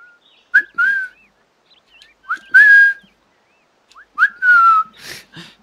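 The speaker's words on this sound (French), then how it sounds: "J'aime bien comment il siffle." Three bursts of clear, melodic whistling from a character in Assassin's Creed Rogue, each a short rising then falling phrase with brief pauses between, loud and close.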